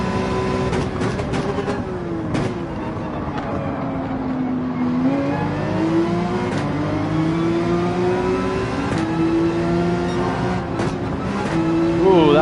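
A Gran Turismo 7 car engine revving and accelerating hard, its pitch climbing and shifting through gears in a steady droning whine that grows louder toward the end.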